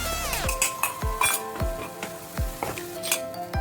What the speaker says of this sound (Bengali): কাজু কিশমিশ আর চারমগজের পেস্টটা দিয়ে ভালো করে আমি কষিয়ে নেব।